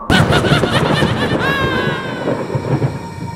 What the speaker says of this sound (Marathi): आणि आकाशात जोराची वीज कडाडली.